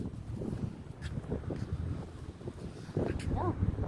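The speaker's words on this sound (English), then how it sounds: "God, it's so windy!" Strong wind blows outdoors where children are playing, a steady low rumble buffeting the microphone throughout and swelling louder toward the end, with brief voices rising over it.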